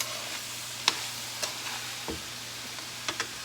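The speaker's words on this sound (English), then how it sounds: "So I'm just going to throw them in this pan and let them get warm together." Kidney beans, black beans and red onion warming in a frying pan hiss with a steady soft sizzle, broken by a few sharp clicks and stirring taps close by.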